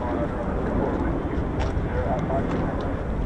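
A US Air Force F-15 or F-35 fighter jet comes in to land at RAF Lakenheath in hazy weather, giving a continuous broad jet roar that stays steady and fairly loud throughout.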